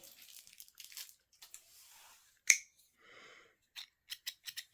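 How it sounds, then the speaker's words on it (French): A single sharp snip of scissors rings out amid soft rustling and handling noises, followed by a few light clicks. "Paire de ciseaux"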